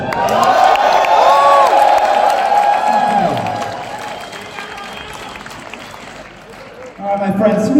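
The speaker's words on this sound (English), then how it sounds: "Give yourselves a round of applause." A metal concert crowd in Berlin cheers, whoops and applauds loudly and continuously, a dense roar that fades a little before a voice speaks over it at the end.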